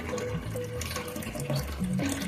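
Water pouring into a toilet cistern as its float valve lets the tank refill, a steady rushing, splashing flow with bubbling gurgles throughout, close and fairly loud, with no talk.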